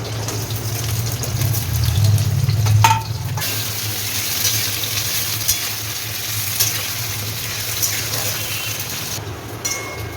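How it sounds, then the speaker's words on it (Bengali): Potatoes frying in a pan sizzle steadily and closely for several seconds, with a low droning hum underneath at first that then drops away, leaving a bright, crackling hiss. "এবারে আলুগুলো ছেড়ে দিলাম, আলুটাকে একটু ভেজে নেব।"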